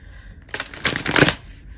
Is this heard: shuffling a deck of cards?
yes